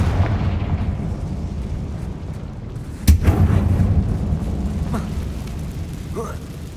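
A Confringo blasting spell in the Hogwarts video game: a sharp, loud burst partway through, set against continuous low rumbling and dense game noise, with a voice underneath.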